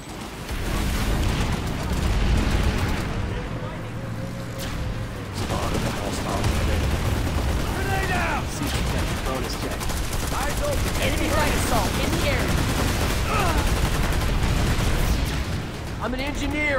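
Tank gunfire in the Planetside 2 video game, with booming shots and rapid bursts amid explosions, while voices talk over the battle throughout.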